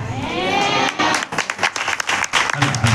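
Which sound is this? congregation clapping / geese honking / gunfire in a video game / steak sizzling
congregation clapping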